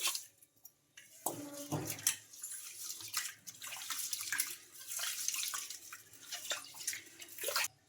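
Rice, either regular or ration rice, is swished and rinsed in water by hand before making dosa batter, with irregular splashes, drips and sloshing close up and no talk.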